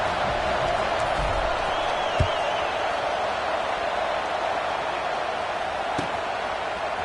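Stadium crowd at an Auburn vs LSU college football game: a steady, distant roar of murmuring fans with a sharp thud and faint whoops, while a commentator talks.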